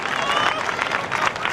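An audience claps at a Jain poetry gathering in Ladpura, Kota, a short, steady burst of crowd applause with a voice faintly running through it.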